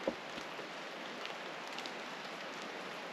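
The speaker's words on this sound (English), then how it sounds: "A little rainy today." Rain falls outdoors around an off-grid cabin and mill, a faint, steady patter of drops spread evenly with no voices.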